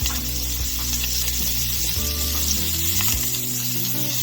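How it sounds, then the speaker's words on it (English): Chopped onions hit hot oil in a pan while cooking a Jack Daniels burger, giving a loud, steady, close sizzle that carries through the whole clip, with faint background music underneath. "I'm going to get my onions in."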